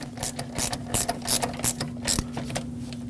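A ratchet snugs the mounting nuts on a brake master cylinder of a 2009-2015 Honda Pilot, giving six quick bursts of sharp pawl clicks at a steady rhythm, close and clear with no talk.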